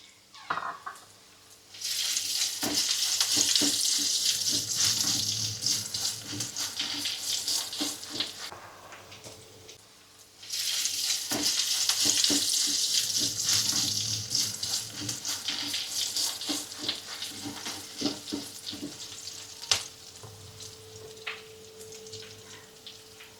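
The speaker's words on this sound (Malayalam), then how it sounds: "എണ്ണ ചൂടാവുമ്പോഴത്തേക്ക് നമ്മൾ അരിഞ്ഞു വെച്ച വറ്റൽമുളക് അതിലേക്ക് ഇട്ട് കൊടുക്കാം." Chopped dried red chillies frying in hot oil for a chilli chammanthi, a loud broad sizzling hiss in two long bursts with a short quieter gap between them, close and steady.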